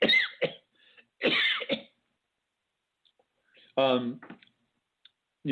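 A few short, harsh coughs close by, in a quick burst, then a pause and another louder throat-clearing cough.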